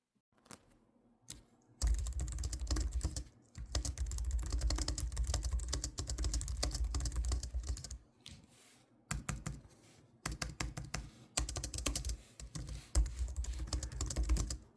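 Close typing on a Logitech MX Keys keyboard, quick soft key clicks in busy bursts separated by short pauses, quiet overall and alone without talk.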